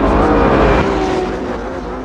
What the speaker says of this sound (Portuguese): E vamos pilotar com o carro aí numa classificação rápida aqui.